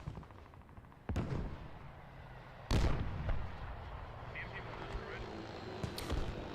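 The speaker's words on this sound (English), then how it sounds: "Here come the grad shots." Grad rocket artillery fires in a tank battle video game, giving a few sharp booming shots with rumbling tails. The shots stand over a low, busy battlefield ambience and are moderately distant.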